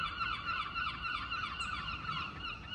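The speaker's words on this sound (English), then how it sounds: "oh, the birds." Birds call in a South East England garden in late winter, a steady overlapping chorus of bright, honking calls that continues throughout at moderate distance.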